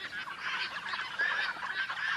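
Cornish cross chickens crowd together at feeding time in a farm shed with heat lamps, a dense, fairly faint chatter of overlapping clucks and calls running continuously.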